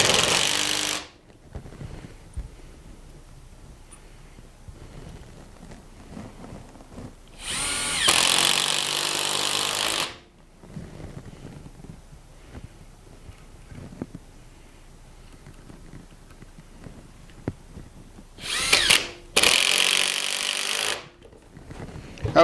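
A power drill drives wood screws into a wooden lathe faceplate, with loud whirring bursts of a few seconds each separated by quieter handling sounds.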